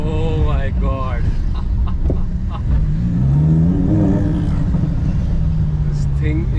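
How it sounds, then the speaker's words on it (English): Inside a Lamborghini Huracan, the naturally aspirated V10 rises and falls as the car pulls away. Lively voices talk over the engine the whole time. "We are driving this naturally aspirated V10 beast."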